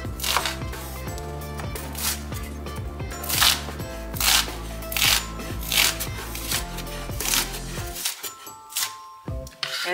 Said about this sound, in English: We'll just go ahead here and chop up on a rough chop